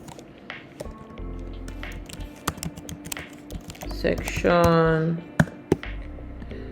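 Computer keyboard typing while entering section labels in the Penpot design tool, scattered soft key clicks in short bursts, fairly close, with a voice talking over parts of it.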